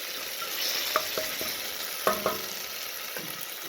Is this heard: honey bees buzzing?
no